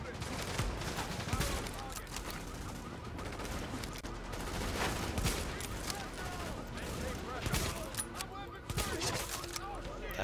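Rapid bursts of gunfire crackle almost without pause in a hard-difficulty shooter game battle for Grand Central Station, dense overlapping shots with occasional louder cracks, with players talking over the din.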